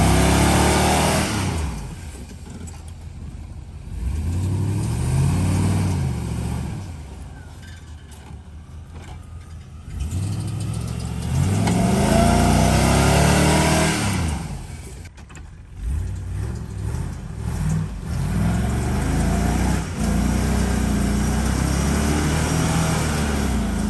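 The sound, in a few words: Suburban engine revving, pulling flooded Jeep out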